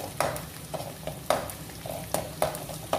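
Crushed garlic fries in hot oil in a pan while being stirred, a soft continuous sizzle broken by sharp scraping taps of a utensil against the pan at an uneven rhythm, close by and with no talking.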